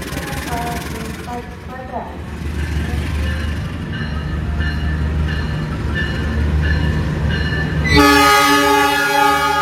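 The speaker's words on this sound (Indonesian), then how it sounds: "Kereta eksekutif Taksaka." Taksaka executive passenger train running past on an Indonesian railway, with a steady low rumble of wheels and carriages throughout and a loud horn blast near the end; no speech.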